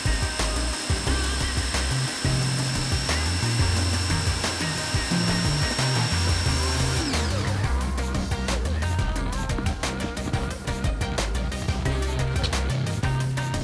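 A Ryobi 1600 PSI electric pressure washer, run through a 35-foot hose and factory gun for car detailing, sprays in a loud, continuous motorized whine with hissing water and shifting pitch throughout.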